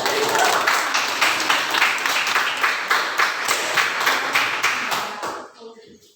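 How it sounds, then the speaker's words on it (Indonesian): Classroom students clapping for a group, a steady rhythmic burst of hand claps from a small crowd that fades out near the end, with some voices mixed in. "sekarang berikan tepuk tangan untuk kelompok 2"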